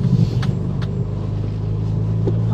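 A 2023 Ford Bronco Heritage rolls off-road toward a puddle near water. Its engine holds a low, steady rumble close by, with a few brief knocks and bumps from the rough track.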